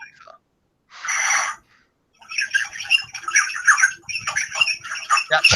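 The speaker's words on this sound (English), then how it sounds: "That chirping as well, the chirping. Weird chirping going on." Rapid, scratchy high-pitched chirps and squeaks come in busy bursts after a short hiss, close and fairly loud.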